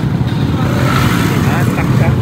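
A lady rider's motorcycle engine runs loud and close with a steady low rumble, while people talk over it.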